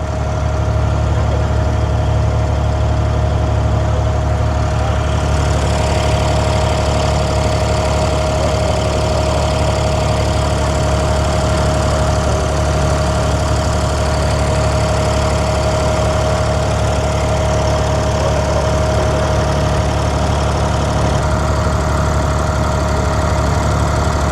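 A small boat's engine runs steadily on the water in Dubai, a loud, continuous low idling drone with a faint mechanical knock and no pauses.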